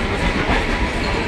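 A train runs along the rails with a loud, continuous rumble and a rushing roar, steady and close, with no voices.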